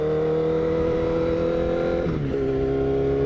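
A motorcycle engine drones steadily while riding, loud and close, with a brief dip and shift in pitch partway through, as if easing off the throttle.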